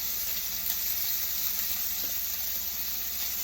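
Steak frying in a pan with butter gives a steady, even sizzle that holds at a constant level throughout, with no voices.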